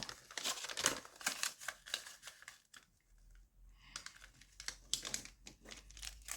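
Colored paper being folded into a car rustles and crinkles close up in short crisp bursts, goes quiet for about a second, then crinkles again.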